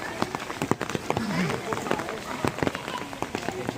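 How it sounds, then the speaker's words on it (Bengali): Steady rain falling on a pilgrimage path in Vrindavan, a continuous patter broken by scattered splashes and footsteps, with voices talking underneath. "বৃষ্টি কিন্তু ভালোই হচ্ছে।"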